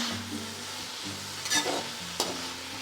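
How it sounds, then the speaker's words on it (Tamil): Cabbage, beans and other vegetables fry in a pan for soya fried rice, with a soft steady sizzle under a couple of sharp scraping stirs of a spoon against the metal. No one talks. "அப்படியே நீங்கள் கலந்துகிட்டே இருந்தீங்கன்னா வெந்துடும்."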